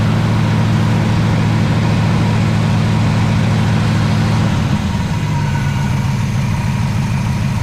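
A car engine on a newly arrived project car with no gauges, running without an adjusted choke, holds a steady high idle with a slight shake, loud and close, before the revs drop lower near the end.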